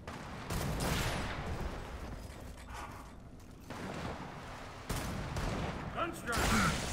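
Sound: gunfire from the video game Gears of War 4 multiplayer

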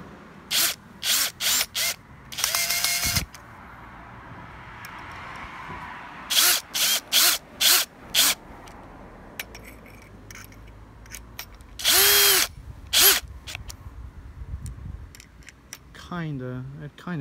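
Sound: screws being driven in to mount a bracket

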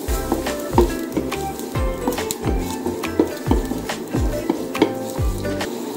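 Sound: onions sizzling in hot oil

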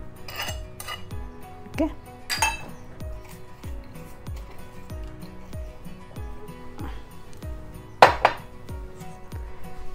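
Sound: green chilies being crushed with the back of a utensil

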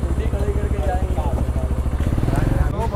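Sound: delivery motorcycle idling and moving forward

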